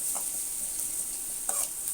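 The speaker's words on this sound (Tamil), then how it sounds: "கடுகு பொரிச்சு வெங்காயம் குட்டி குட்டியாக இருந்துச்சுக்கிறேன், அதையும் சேர்த்துக்கிறோம்." Mustard seeds and finely chopped onion frying in oil for spicy egg dosa, a faint steady hiss with small stirring scrapes near the start and middle, close but quiet.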